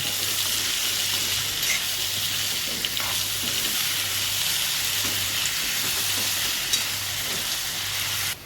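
Raw mango pieces with jaggery and chilli powder are stir-fried in a pan, making a continuous moderate sizzle with soft scraping strokes and an occasional clink, then a sudden cut at the end.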